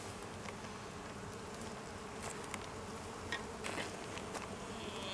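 Honey bees buzz steadily around an open hive during an inspection, a dense continuous drone close by with a few louder passes as individual bees fly near, and no talking.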